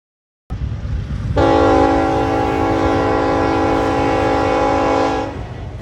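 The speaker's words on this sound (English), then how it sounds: "At Edison, BNSF 7068 passes." BNSF freight train 7068 passes at Edison, sounding one long, loud, steady horn blast over a close, continuous rumble of the train.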